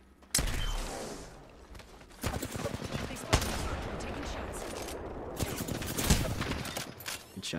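Video game gunfire from a 1v1 shooter match with a Kraber sniper rifle and a shotgun: a rapid series of sharp, close shots and bursts that keep firing across the whole stretch.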